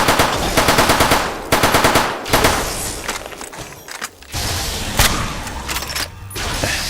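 Rapid bursts of automatic gunfire and heavy shotgun blasts from the Fallout: New Vegas Lonesome Road game, loud and close, firing in repeated volleys with short gaps between.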